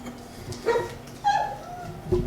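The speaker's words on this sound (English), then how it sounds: "you can hear my little puppy who decided that he wanted to be part of this, but so he might be singing for a little bit" A small puppy whimpers and yips in a few short, high, whining bursts close by, with a quiet room in the background.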